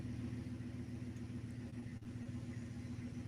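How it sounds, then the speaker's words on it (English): A truck engine rumbles steadily at low pitch, idling and barely moving, with a constant drone and no voices. "He literally just drove the truck like an inch."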